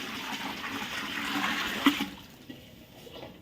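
Water is poured from a measured container into a large pot of masala-coated chicken for a chicken biryani cooked for 150 people, a steady gushing pour that swells and then tapers off, with no talk.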